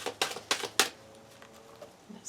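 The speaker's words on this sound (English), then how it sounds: "They just want me to shuffle it again." Tarot cards being shuffled during a reading, with four quick papery riffles in the first second followed by quieter handling, close and with no talking.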